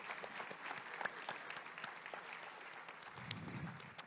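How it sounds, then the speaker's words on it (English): Steady applause from a room of attendees at a Chamber of Commerce monthly luncheon, many hands clapping continuously and evenly at moderate distance, with no voices over it. "Let's give both these guys a round of applause."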